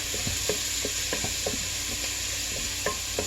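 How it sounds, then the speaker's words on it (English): Ground meat browning in a pot while being stirred: a steady close sizzle with repeated scraping strokes of the spoon at an uneven rhythm, no speech. "Give a little stir."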